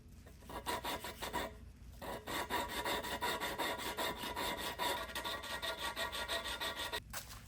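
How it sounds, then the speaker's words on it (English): Engine valves on a 12-valve International engine being lapped with valve grinding compound, a steady gritty rasping with rapid repeated strokes, close and continuous with a couple of brief pauses, no talking. "what we're doing right now is grinding the valves down"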